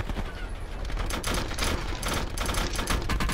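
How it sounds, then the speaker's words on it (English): Rapid automatic gunfire in the Call of Duty Blackout video game, a dense, continuous volley of loud shots with sharp repeated bursts across the whole stretch and no talking. "Oh, he's shooting!"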